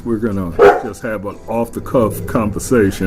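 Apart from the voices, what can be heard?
dog barking in the background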